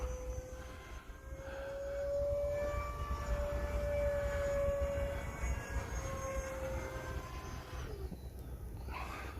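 A fast RC jet airplane flying overhead outdoors, its turbine producing a loud, steady high whine that swells and holds for several seconds before shifting pitch and fading as it passes.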